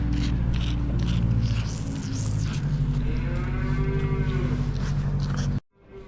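Cows mooing on a farm around milking time, with repeated low, drawn-out lowing calls over a busy barn background, loud and close, ending abruptly near the end.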